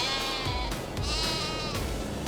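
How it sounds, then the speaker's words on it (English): Sheep in Farming Simulator 22 bleat loudly and close by, several overlapping calls over a steady farmyard background with no one talking. "There's our sheep."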